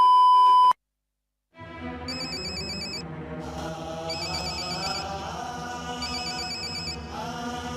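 A short electronic tone cuts off, then after a brief silence a phone ringtone plays a repeating melodic pattern, fairly loud and continuous.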